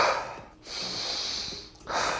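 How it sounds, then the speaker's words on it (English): Deep Wim Hof-style breathwork: a strong, close breath sweeps in, pauses briefly, then a long exhale follows and another breath begins, heard alone without talk. "Big breath in, the stomach comes out, chest opens up all the way to the head, and exhale"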